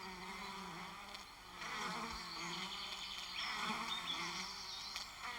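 Honeybees buzz in a dense, continuous drone, their wingbeats swelling and fading slightly as several insects hover close by against a quiet background.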